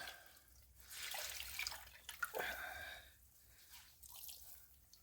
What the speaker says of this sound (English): So let's wring it out.